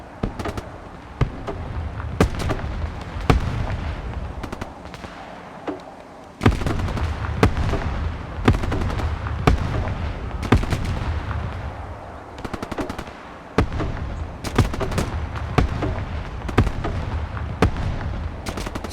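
Punisher grenade launcher firing in the Broken Arrow strategy game: a long sequence of sharp, loud shots and bursts in irregular clusters, with several heavy volleys and explosive cracks over a steady battlefield rumble, with almost no talking.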